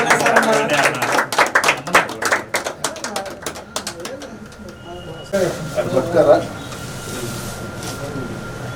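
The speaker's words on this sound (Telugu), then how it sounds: "చప్పట్లు కొట్టండి" Group of people clapping hands in rhythm at a birthday celebration, a fairly close steady run of claps that fades out partway, with voices talking over and after it.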